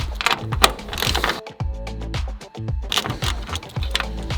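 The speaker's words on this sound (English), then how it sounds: "step 2 is to take off these 8mm bolts right here. And I will do that with an 8mm socket." An 8mm socket ratchet backs out headlight bolts on a BMW E46, giving quick bursts of close, crisp ratcheting clicks with a short pause in the middle, no voices.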